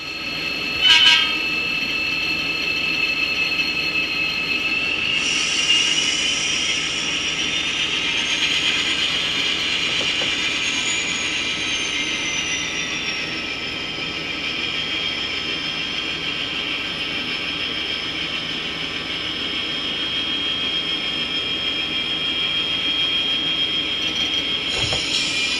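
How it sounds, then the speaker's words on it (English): A model railroad locomotive moves in a yard with a steady rolling rumble and high wheel squeal. The sound runs continuously and fairly loud throughout. "the yard crew is going to move their locomotive out of the way."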